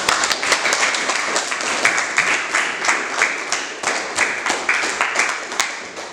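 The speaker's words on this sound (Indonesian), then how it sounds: "Kasih tepuk tangan dulu untuk teman-teman." A classroom claps for a student, steady close applause from many hands that keeps going evenly for several seconds without pause.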